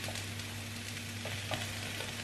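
Tofu sizzling and frying in a pan as it is scrambled, a steady close-up crackle with a few soft scrapes of stirring, no talking.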